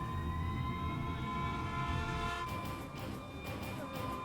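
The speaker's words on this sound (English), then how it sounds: "Hey, this siren, it sounds different." A steady wailing siren tone in Xenoblade Chronicles, moderately loud and sustained, with a faint rumbling background underneath.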